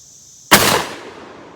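A 12 gauge shotgun fires a single test reload meant for dove hunting, one sharp, loud, close blast with a short decaying tail, and no voices.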